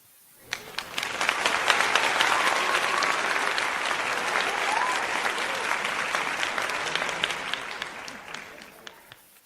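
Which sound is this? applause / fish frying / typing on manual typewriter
applause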